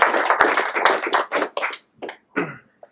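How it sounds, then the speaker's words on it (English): Brief round of applause from a small meetup audience welcoming a speaker, a few seconds of clapping in bursts that thins out and fades quickly. "Let's give him a round of applause."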